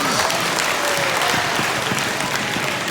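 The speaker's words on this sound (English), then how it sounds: "let's have one more round of applause for all of our brass players" Steady audience applause for brass players after a school instrument demonstration, a full even clapping wash that holds throughout.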